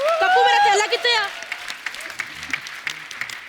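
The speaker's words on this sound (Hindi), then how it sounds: "एक बार दादियों के लिए तालियां बजा दो" Applause from the studio audience of The Kapil Sharma Show, a dense patter of many hands clapping that follows a brief voice and carries on steadily.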